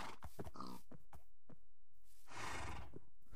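A horse whinnies and snorts in short bursts in Minecraft, with game sound effects around it and a louder, noisy rush near the end.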